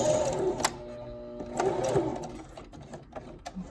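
A sewing machine back stitching fabric for a wine duffle bag, running in short bursts of rapid stitching with brief pauses between, close and clear, with faint thread and handling noises toward the end.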